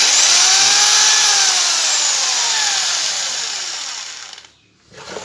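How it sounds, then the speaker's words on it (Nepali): A repaired electric hammer drill machine runs loud and close with a high steady whine, its pitch sagging as it winds down, stopping briefly, then starting again. "हाम्रो ड्रिल मेसिन चलिसकेको छ"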